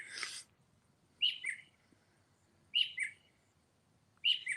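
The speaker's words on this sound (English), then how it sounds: "but that stinking bird." A bird calls at night in three clear, separate bursts of bright two-note chirps spaced a little over a second apart. The calls are fairly close against a quiet, still background, and there is no talking.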